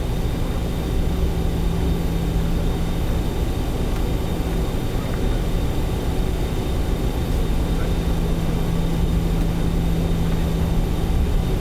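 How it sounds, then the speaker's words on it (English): A small four-engine jet airliner in Microsoft Flight Simulator 2024 gives off a steady, loud engine drone with a constant tonal hum, unchanging throughout and without talk. "Tiny little 4-engine jet aircraft."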